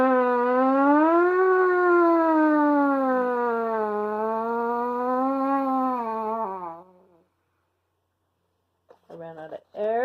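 A trumpet plays a siren exercise, one long sustained tone sliding slowly up and down in pitch for several seconds before stopping, followed by silence and a few short brassy blips.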